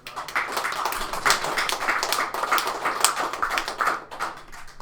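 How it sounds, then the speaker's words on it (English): A live audience at the Kentucky Fried Pixels 2017 kickoff jam claps steadily throughout, dense and fairly loud with no talk over it. "Can we have another round of applause for that?"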